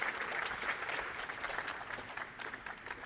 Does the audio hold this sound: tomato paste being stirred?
no